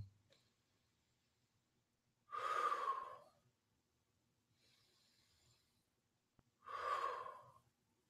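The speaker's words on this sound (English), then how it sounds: "what I just did was I inhaled for a little bit, and then I also exhaled." Two deep breaths, each a loud breathy rush of air, heard close up in a quiet room several seconds apart, with silence between them.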